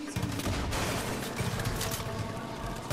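An American gun fires in the video game Far Cry 5: a dense, continuous burst of shots with heavy low-end thumps, loud and close throughout.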